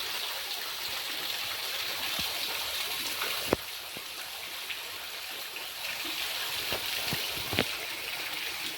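Water flows steadily at the Sinking Spring, a paved natural spring at Abraham Lincoln's birthplace farm, a soft continuous rushing wash with occasional small splashes and drips close by.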